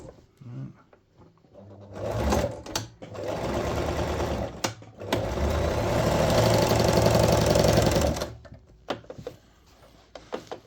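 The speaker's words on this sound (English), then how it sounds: "I'm going to be stitching it backwards and forwards a little bit" Sewing machine stitching back and forth at the end of a seam, its motor whirring and needle clattering in several bursts of a few seconds with short pauses between them.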